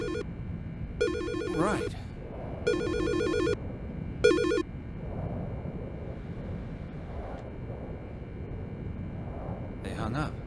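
A telephone rings in the Silent Hill: Shattered Memories video game, a bright electronic trill in four short bursts amid storm ambience, with characters talking between and after the rings.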